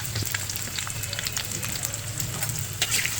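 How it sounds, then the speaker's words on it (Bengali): Chopped onion and green chili sizzling in hot oil in a home kitchen for a bottle gourd stir-fry, a steady crackling fry with faint sputters and no talking. "প্রথমেই গরম তেলে পেঁয়াজ কুচি ও কাঁচা মরিচ দিয়ে দিব।"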